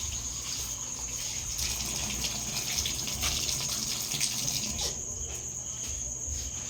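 Taro leaves are washed under a running tap, with a steady close stream of water splashing continuously and a high insect-like chirr in the background.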